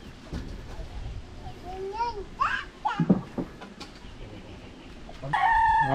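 Chickens and roosters on a poultry farm, with clucking, warbling calls and a loud crow near the end, mixed with background chatter and children's voices.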